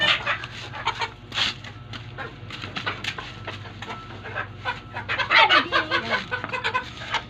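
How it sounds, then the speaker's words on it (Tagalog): A flock of chickens clucks and squawks close by at a rural coop, with overlapping calls and a louder burst of agitated clucking toward the end. "Hindi na kami makuli ng mga manok guys."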